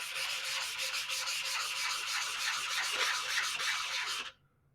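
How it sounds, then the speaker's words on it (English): A tumbler cup being sanded with 220 grit sandpaper gives rapid, rhythmic rubbing strokes, close and steady, stopping abruptly just before the end. "This is some 220 grit sandpaper that you want to use."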